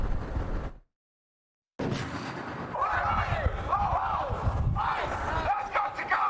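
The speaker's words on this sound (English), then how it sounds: "This crowd isn't big, but it is loud" A loud crowd of student protesters shouting and chanting together outdoors at Georgia State University, broken by a brief moment of silence before the shouting resumes.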